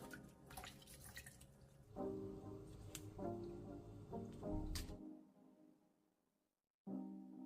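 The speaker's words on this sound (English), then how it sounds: "So I'll start by washing the guava leaves" Guava leaves washed by hand in water: close drips, splashes and squishy sloshing for several seconds, a brief quiet gap, then the wet handling resumes.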